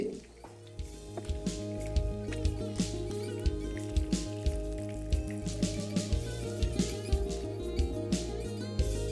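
Lata fish, a snakehead, fry crisp in hot oil and are lifted out, close bubbling crackle with rhythmic wet pops and drips over a low steady hum.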